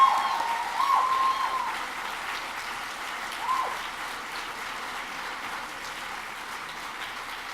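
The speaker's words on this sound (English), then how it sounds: "Please join me again in giving him another round of applause." Audience applause after a university keynote address, steady clapping from a large room that starts fairly strong and settles into a softer, even patter.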